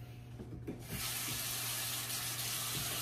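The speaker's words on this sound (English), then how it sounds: "Wash your face with water." Tap water runs into a sink during a couple's nighttime face washing, a steady close hiss of flowing water that grows fuller after the first second and continues without pause.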